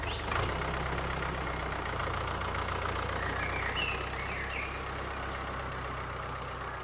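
A tractor engine idles steadily on a farm field, a low continuous rumble holding at a moderate, even level throughout with no talk over it.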